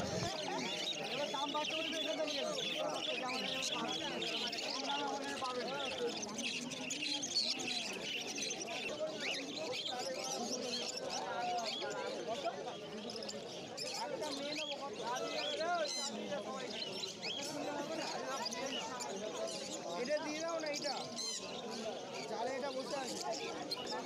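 Many caged birds, including pineapple conures, chirp and call continuously at a bustling bird market in Uluberia, a dense chattering layer sitting under someone talking throughout.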